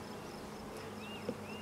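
Honey bees in an open hive, a steady dense low buzz from many insects, close and constant, with no talk and only a faint brief tap.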